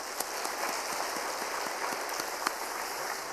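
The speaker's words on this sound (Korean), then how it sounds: "우리 서로를 격려하는 박수도 한번 하겠습니다" A church congregation applauds together at a Wednesday service, a dense, steady wash of many hands clapping throughout, with a few sharper individual claps popping out above the crowd.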